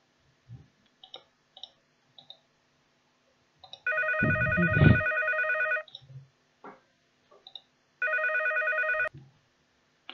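A telephone rings in two loud, sustained electronic bursts separated by a gap, with scattered small clicks throughout and a louder knock during the first ring.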